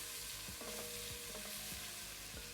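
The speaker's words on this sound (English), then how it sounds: "Next, I'm going in with some minced garlic. Fry that for about 10 seconds." Minced garlic fries in a pot for pot roast, a faint steady sizzle with a few soft stirring scrapes, quiet and without voices.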